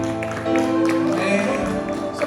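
A church congregation applauding during a service, with steady clapping blended with crowd voices and a tonal musical or vocal layer beneath.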